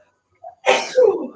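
A single sharp sneeze with a short breathy intake before it, close and loud, trailing off into a brief vocal tail.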